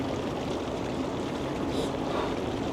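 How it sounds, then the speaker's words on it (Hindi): Hot spring water boiling hard with two eggs set in it, at Tata Pani in Pakistan, making a steady, dense, loud bubbling and rushing roar with no pauses. "पानी जो है ना शदीद किस्म का उबल रहा है"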